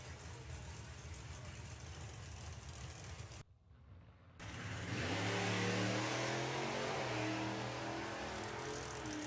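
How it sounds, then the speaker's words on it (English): A drag racing hot rod revs hard at the strip, its engine building after a short gap into a loud, sustained rising roar with a steady rumbling drone. "So, Phil James with the Rampage. Again, a car with a huge amount of history"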